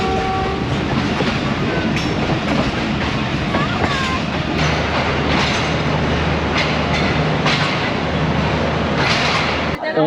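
A train in Pakistan rumbles steadily along the rails with rhythmic clacking and a brief horn at the start, loud and close throughout.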